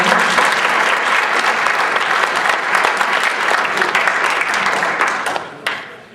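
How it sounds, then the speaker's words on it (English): A debate audience at the Sheraton gives a full round of applause for a U.S. House candidate, thick and steady clapping that fades out over the final second. "give him a quick round of applause and welcome"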